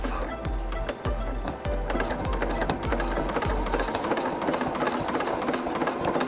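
A sewing machine stitches a quilted vine in a run of quick regular needle thumps for about four seconds, close and clear, then the motor stops and only faint ticks and handling noise remain.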